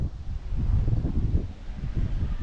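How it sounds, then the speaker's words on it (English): Gusty wind buffets an outdoor microphone on a breezy, cool December day in Santa Ponsa, Mallorca, a steady low rumble that swells and dips throughout with no voices. "it's very breezy, and it's a little bit cooler now"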